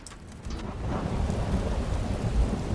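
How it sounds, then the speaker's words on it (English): Steady rain pours in Skyrim with deep rolling thunder underneath, a dense, continuous wash of downpour that swells slightly over a few seconds with no voices. "Oh, it's raining."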